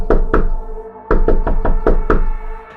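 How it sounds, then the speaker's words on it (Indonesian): Knocking on the main door of a villa, loud and close: two quick raps, a short pause, then several more evenly spaced knocks in a steady repeating rhythm, with no voices. "suara ketukan itu lagi-lagi terdengar berulang kali"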